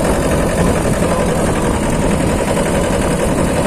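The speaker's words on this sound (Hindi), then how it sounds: "तो अभी आप देख सकते हैं ट्रैक्टर मैंने थर्ड गियर पे डाला हुआ है" A Mahindra Jivo 245 DI 4WD mini tractor engine runs in third gear off-road, steady and loud, with a dense low rumble and even vibration, holding constant throughout without pauses.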